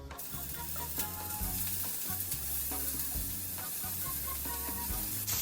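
Blanched onions grilling in a little olive oil with salt in a pan, a steady soft sizzle under faint background music with low rhythmic thumps.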